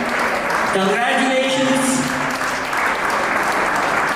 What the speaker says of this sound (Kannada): ನಿಮ್ಮೆಲ್ಲರೂ ಜೋರಾದ ಚಪ್ಪಾಳೆ ಬರಬೇಕು